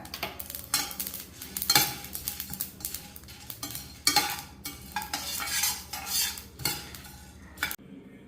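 Coriander seeds and red chilies dry roasting in a pan, with a spoon scraping and stirring in irregular bursts and faint crackling between strokes, close by and with no talk.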